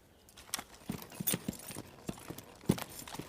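A young stallion's hooves clop in an irregular walking rhythm, close and fairly quiet, with a few sharper strikes and no talking.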